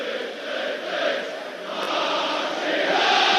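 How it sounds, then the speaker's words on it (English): Leeds United supporters singing in the stands at Derby County's ground during an FA Cup tie, a dense, steady roar of massed voices with no individual words, swelling slightly toward the end. "the Leeds crowd, as you can hear, in great voice"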